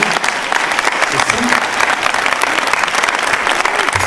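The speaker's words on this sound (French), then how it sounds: "J'aimerais, s'il vous plaît, quand même qu'on applaudisse les équipes du cinéma" An audience in a CGR cinema in Nîmes applauds the venue staff. Dense, energetic clapping runs the whole way through, close and loud, with brief cheers or voices mixed in.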